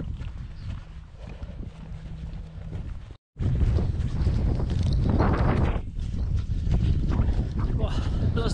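Strong wind with light rain buffets a runner on a long, slightly uphill straight during a trail race, loud gusty rumble and microphone buffeting throughout, briefly cutting out, with a voice faintly present.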